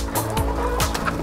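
Chickens being fed treats give loud, close clucks and squawks in short bursts over about a second, with a low background rumble underneath.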